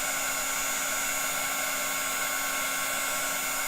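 A heat embossing tool blows hot air in a steady, continuous whine with a hum, loud and close throughout, with no talking.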